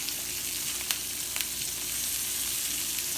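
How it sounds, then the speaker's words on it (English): A steak fries in a pan with thyme and garlic, giving a steady, dense sizzle throughout with a few faint crackles and pops, close and continuous, with no talking. "we have thyme, we have garlic in the frying pan while it's cooking"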